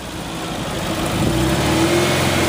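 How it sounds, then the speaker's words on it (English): An all-black Porsche engine revs up, its mid-pitched roar swelling steadily and staying loud and close throughout, with no talking. "It's black, all black Porsche."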